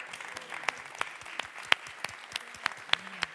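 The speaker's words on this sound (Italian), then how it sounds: "Un grosso applauso." Audience at a theatre talent show clapping: sparse, scattered claps at a steady pace rather than a dense roar, with faint crowd noise underneath.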